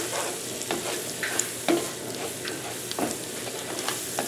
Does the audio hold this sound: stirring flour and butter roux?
yes